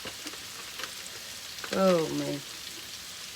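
Bacon shrunk down small frying in a pan gives a steady, soft crackling sizzle throughout, with a short spoken exclamation rising over it midway.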